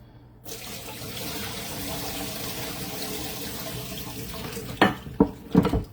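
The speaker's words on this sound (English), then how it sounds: "I'm going to run some water in here." Tap water runs steadily into a container in a home kitchen during food prep, a continuous rushing stream, followed by a few sharp clanks of dishes near the end.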